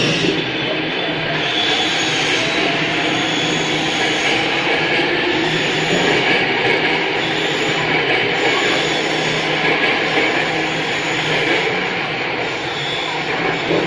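Continuous broadband rumble and hiss of a Jakarta MRT or LRT train running, steady and fairly loud throughout with no speech.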